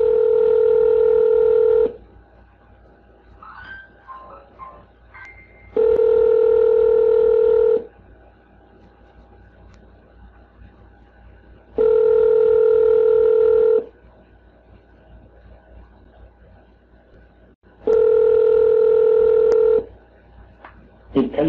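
A telephone line sounds a repeating ringing tone, four loud two-second bursts separated by quiet gaps of about four seconds, with faint background noise between them.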